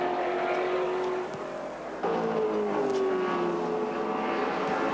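Race cars, including Ford Falcons, at the 1980 Hardie-Ferodo 1000 touring car race roar past, engines whining and shifting pitch as they pass, loud and continuous, with no talk over them.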